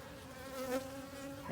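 Steady, close insect buzzing from a wild honeybee swarm recently moved to a bee yard, a continuous droning hum with a brief swell near the middle and no talking.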